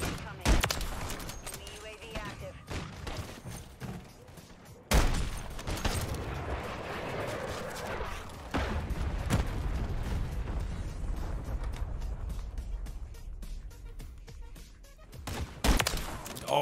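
Gunfire in Modern Warfare 3 penetrates a wall, heard as loud, rapid volleys and sharp single shots across a long stretch. A voice talks over the shooting at times.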